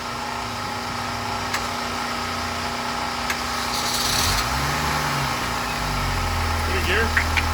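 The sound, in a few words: race car engine started and running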